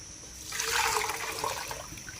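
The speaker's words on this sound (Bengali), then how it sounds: "নামিয়ে জল ঝরিয়ে নেব।" Water pours off a pot of half-boiled Maggi instant noodles as it is drained, a steady splashing gush that swells after a brief quiet start and then runs on evenly, close by with no talk.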